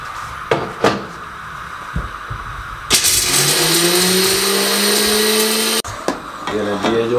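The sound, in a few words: mixer grinder jar grinding pistachios and almonds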